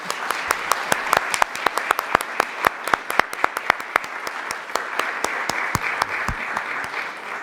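An audience at a state assembly district candidate forum claps, the sharp individual hand claps distinct and close, a fairly sparse steady patter lasting several seconds with no talk.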